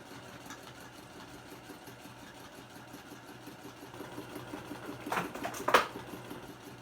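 Sewing machine stitching leaf veins on a raw-edge appliqué Thanksgiving placemat, a faint, steady rapid whirring hum with a few louder clicking bursts near the end.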